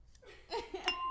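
Wine glasses clink together in a toast, giving a couple of quick, bright, faint chimes, with soft laughter and murmuring around them.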